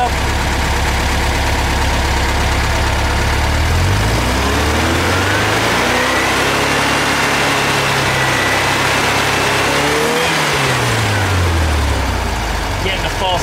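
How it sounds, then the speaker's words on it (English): Air-cooled VW Type 3 engine being revved on the bench after a timing check, loud and close, rising from idle to a high sustained rev and dropping back to idle twice. "Set it to 32 and we'll rev it up."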